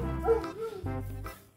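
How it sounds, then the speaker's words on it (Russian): A small dog close by gives a few short yappy barks and whines in quick succession, loud at first and then tapering off. "Ой, какой красивый песик."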